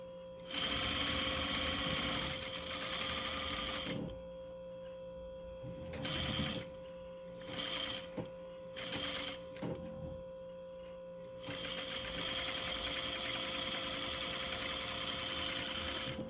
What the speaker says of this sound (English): now you're gonna stitch it together